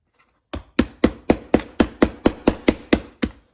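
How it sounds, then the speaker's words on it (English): Eleven sharp metallic hammer strikes knocking leftover flux off old welding rods, in quick, even succession, loud and close, each ringing briefly before the next. "And usually you can just hammer them right off."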